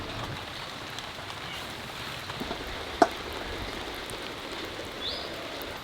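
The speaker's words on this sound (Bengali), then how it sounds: "কালকে রাতের থেকে শুরু হয়েছে রে বাবা, রাতের থেকে বৃষ্টি" Rain falls steadily in a faint, even hiss around a kitchen during a downpour, with one brief sharp tap partway through and no voices.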